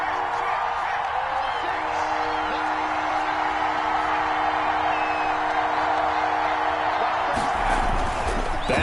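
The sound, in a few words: stadium crowd cheering in an American football video game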